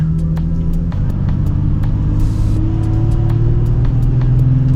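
A Nissan 350Z drives along a road, its engine giving a steady close rumble that rises slightly in pitch as it pulls ahead, with no talk over it.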